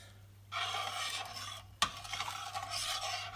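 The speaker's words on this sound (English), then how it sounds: "Give it another mix." A utensil scrapes and swirls steadily through a pot of salty chicken brine, close and fairly loud, with a brief knock against the pot midway and no voices.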